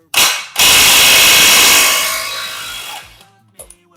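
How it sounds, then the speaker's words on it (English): An impact wrench works on an overtightened axle nut: a short loud burst, a brief pause, then a long, harsh, close whirring hammer that fades over about two seconds, followed by faint clanks. "So we'll put the impact on it and see how it goes."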